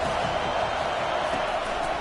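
Home crowd in a football video game roaring as one steady, dense wall of noise from a packed stadium, loud and unbroken throughout.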